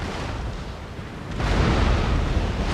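Frigates trade cannon fire in a Napoleon Total War sea battle, heard as a dense rumbling roar of booming shots that swells louder partway through, with no talking.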